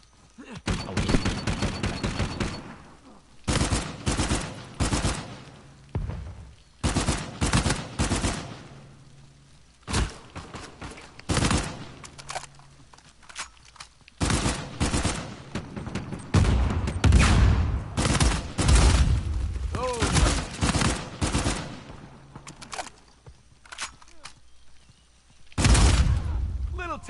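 Gunfire in Uncharted 4 comes in repeated bursts of rapid automatic shots across a long firefight, with loud volleys broken by short lulls and thuds, and voices under the shooting.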